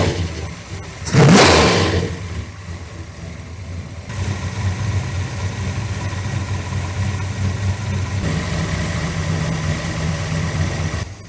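A truck engine with a loose throttle revs hard in a short, loud burst, then falls back to a steady, rough idle that carries on close by with no one talking.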